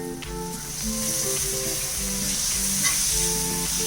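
Two medium-sized tomatoes go into a hot pan of sautéed onion masala for egg podimas, and the pan answers with a loud, steady sizzle and frying hiss with faint stirring beneath. No speech.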